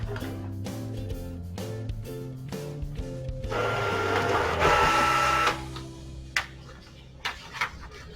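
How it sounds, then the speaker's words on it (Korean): An HP 452DW inkjet printer printing a quality report, with rhythmic mechanical print-head passes and a whirring paper feed that swells mid-way, then a few clunks as the page finishes, close and loud. "이렇게 뽑고 나서 다시 품질 보고서를 뽑으면"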